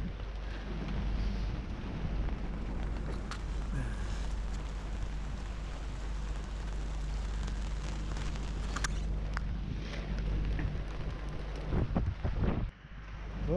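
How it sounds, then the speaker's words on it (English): Heavy rain and gale-force wind at sea in the Bay of Biscay lash a boat with a steady, loud roar, broadband buffeting that persists throughout, with a few sharp knocks and gusts near the end. "It's fucking pissing rain"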